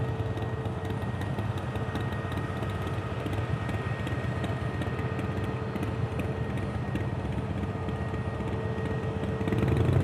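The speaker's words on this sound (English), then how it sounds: "that engine noise is a motorbike and not the aircraft" A motorbike engine drones steadily in the distance near an airport, a faint continuous rumble with a slight swell toward the end.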